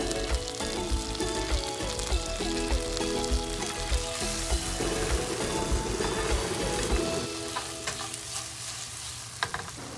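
Salmon frying in a hot pan with butter and brandy, a dense, steady crackling sizzle with spattering pops, close and constant, easing slightly toward the end.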